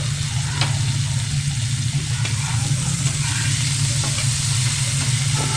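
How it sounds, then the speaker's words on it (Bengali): Potato pieces frying in a pan for a mixed vegetable dish, a steady close sizzle with faint stirring scrapes over a constant low hum, with no talking. "খুব বেশি ভাজবো না, একটু জাস্ট হালকা ঢাকা দিয়ে দিয়ে একটু ভেজে নেব।"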